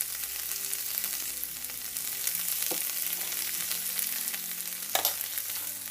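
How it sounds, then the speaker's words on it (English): Shrimp and vegetables stir-fry in a hot pan with light soy sauce and oyster sauce, a steady broad sizzle running throughout, with a couple of sharp utensil clinks against the pan partway through. "I will give it a nice stir and allow it to simmer"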